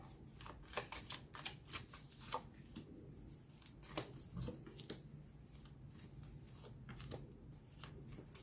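Tarot cards being shuffled for a new draw, a steady run of soft, close riffling flicks and slaps repeating throughout at low volume.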